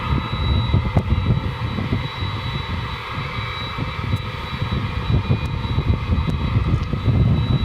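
A plane's engines at Dallas/Fort Worth Airport at night make a steady, fairly loud jet roar with a thin high whine, continuous and unbroken throughout, with no voices.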